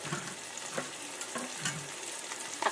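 Fried rice with green peas frying in a wok, with a continuous close sizzle broken by several scraping stirs of the spatula and a louder clatter at the very end.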